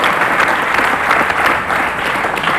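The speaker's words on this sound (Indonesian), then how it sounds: "Tepuk tangan" A studio audience at a television talk show claps enthusiastically, a thick, unbroken wash of applause that stays loud from start to finish.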